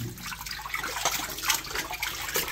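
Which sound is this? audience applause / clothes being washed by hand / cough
clothes being washed by hand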